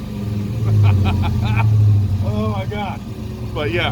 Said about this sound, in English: this thing has the greatest exhaust note I've ever heard.